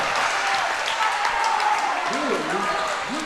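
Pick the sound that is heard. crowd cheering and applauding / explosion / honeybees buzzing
crowd cheering and applauding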